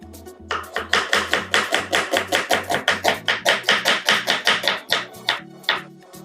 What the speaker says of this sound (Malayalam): സവാള നമുക്കൊന്ന് പൊടിയായിട്ടൊന്ന് അരിഞ്ഞെടുക്കാനുണ്ട്